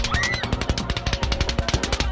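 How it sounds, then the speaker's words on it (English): Rapid automatic gunfire rips into a concert crowd, a fast, unbroken string of sharp, loud reports in steady rhythm with a faint whistling tone in the first moments. "over 100 rounds are fired into the crowd"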